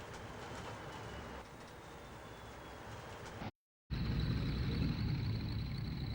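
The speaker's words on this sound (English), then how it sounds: "The racing stretch north of York is seen from the cab of a Class 40." Inside the cab of a British Rail Class 40 diesel locomotive racing north of York, a steady rumble and rail roar continue throughout, broken by a brief cut before resuming louder.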